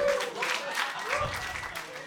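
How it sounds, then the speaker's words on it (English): Comedy club audience applauding during a stand-up set, a short burst of scattered clapping with a few cheers and voices mixed in. "round of applause for men."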